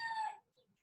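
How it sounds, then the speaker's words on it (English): A rooster crows close by in one short, loud, harmonic burst that cuts off abruptly, leaving faint background noise. "these roosters is having a party over here"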